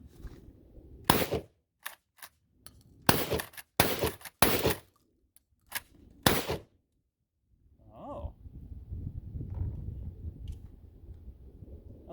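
A UTS-15 shotgun fires a series of loud, sharp blasts in irregular succession outdoors, several shots close together, then quiet followed by faint rustling and background noise.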